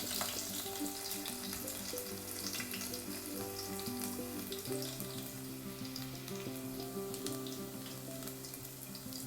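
Crushed garlic frying in oil in a pan for mutton sukka, a steady close sizzle with faint stirring, continuous throughout with no talk.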